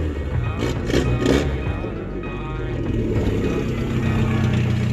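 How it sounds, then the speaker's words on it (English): A 1987 Volvo 745 station wagon engine idles after a fuel pump replacement and is briefly revved, a low steady rumble close by with a short swell early on and a voice partly over it. "Give her a little bit of a rev."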